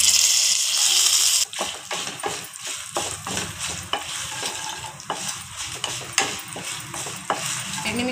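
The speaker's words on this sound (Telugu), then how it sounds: "స్టవ్ సిమ్లో పెట్టుకొని వేపుకోవాలి" Fenugreek seeds, mustard seeds and dried red chilies frying in oil over low heat, a close hissing sizzle with repeated scraping stirs of a ladle in the pan, no voices heard.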